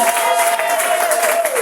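A church congregation applauding a pastor, steady clapping from many hands filling the room evenly, with a sustained voice or tone held over it.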